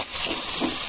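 Finely chopped big onions hitting hot oil with mustard seeds and dal, giving a loud, steady hiss of sizzling frying that fills the short moment without pause.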